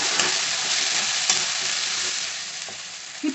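Curry leaves crackle and sizzle loudly in hot oil in a pan for a prawn curry, with a spoon scraping and stirring in a few distinct knocks over a continuous close hiss.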